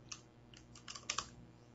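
Fingers typing on a computer keyboard, a handful of light, close key clicks in an uneven rhythm over a faint hum, with no voices.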